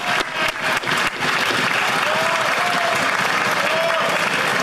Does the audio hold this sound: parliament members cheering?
yes